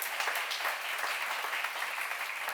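Steady applause from a church seminar audience, a continuous dense patter of clapping with no break, fairly loud throughout.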